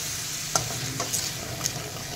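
Ridge gourd vegetable sautés in oil in a pan with a steady loud sizzle, broken by a few quick scrapes and taps of a spatula stirring it.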